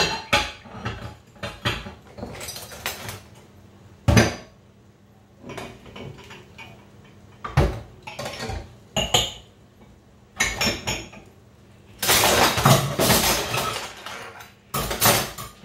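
Ceramic dishes and cutlery clinking and clattering in a home sink as they are rinsed, with irregular bursts of knocks, scrapes and running-water hiss, close and fairly loud, no talking.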